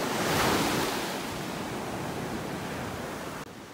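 Ocean waves break steadily on a beach in North Naples, Florida, on an early morning. The surf is a continuous, loud wash that swells briefly near the start and then holds even, with no voices.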